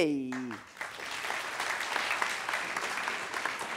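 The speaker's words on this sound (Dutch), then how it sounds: "En met uiteraard een hartelijk applaus als begeleiding." Audience applause at a conference, a dense, steady clapping from a large crowd that rises after a brief musical tone and holds at an even, full level throughout.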